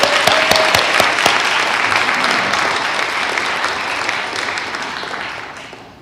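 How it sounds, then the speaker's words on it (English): A congregation applauds during a Sunday church service, dense clapping filling the room from the start and slowly thinning and fading toward the end, with no voices over it. "Let's give a round of applause to Terry and the concert series."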